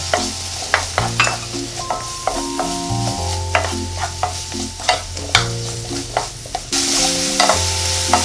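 Salted zucchini stir-fried with garlic in a spoonful of cooking oil over medium-low heat, a steady soft sizzle with repeated spatula scrapes and clicks against the pan, close and continuous, with no voices.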